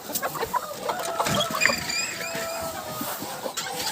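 Chickens cluck and chatter in a busy backyard coop, with scattered calls overlapping at close range over a steady ambient background.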